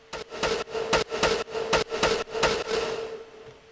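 A reshaped synth lead in the second drop of an electronic dance track, hitting in sharp rhythmic stabs about every third of a second, loud and bright over a steady mid tone, with no voices.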